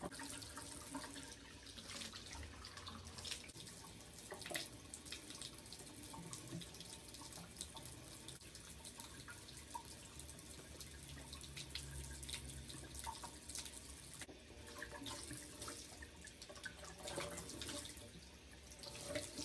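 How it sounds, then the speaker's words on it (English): Steady running tap water pours into a sink for handwashing before caring for a new tattoo, a continuous full rush with small splashes throughout, close and without speech. "make sure you wash your hands first before you even go near it"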